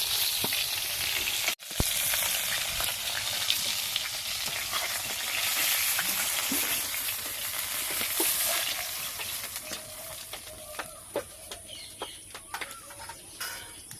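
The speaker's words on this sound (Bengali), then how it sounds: "এইভাবে একইভাবে আমি এই মাছগুলো ভেজে নেবো" Fish crackles and spits in oil in a wok, a loud continuous sizzle that grows more popping and crackly toward the end, with stirring clatter and a faint bird clucking nearby.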